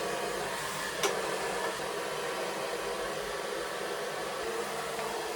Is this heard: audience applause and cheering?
no